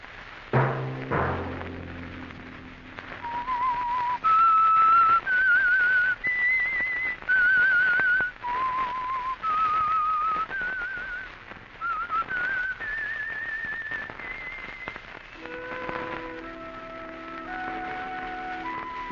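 A clear whistled melody, the signature tune of the 1952 radio drama The Whistler, a short tune of bright sustained notes rising and falling, played alone over a faint low background.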